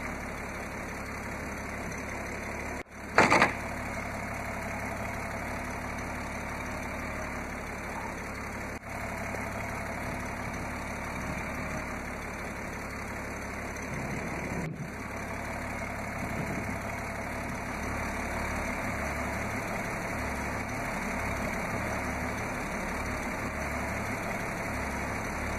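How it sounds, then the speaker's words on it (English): A 1978 Grumman Kurbmaster panel van with a GM straight-six engine idles in a steady, even drone with no talk. There is one sharp knock near the start, and faint low rhythmic pulses come in toward the end. "powered by a GM straight six-cylinder engine."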